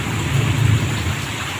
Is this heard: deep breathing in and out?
no